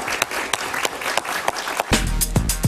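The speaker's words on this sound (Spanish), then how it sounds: "Un aplauso para él, por favor" Studio audience applause on a Spanish-language television talk show, a busy crowd of claps with sharper individual hand strikes standing out, loud and energetic, with a low rumble joining near the end.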